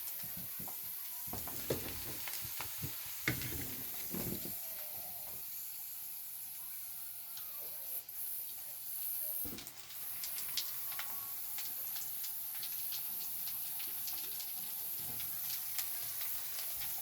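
Potatoes frying in a pan, a soft steady sizzle and hiss with a few clinks and stirring scrapes, faint and close, no talk.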